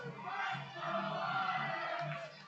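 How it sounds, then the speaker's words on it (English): A sellout baseball crowd at Bosse Field roars and murmurs in a steady, distant swell of cheering voices, faint and muffled, rising and holding without a clear break. "Crowd is getting loud here at Bosse Field."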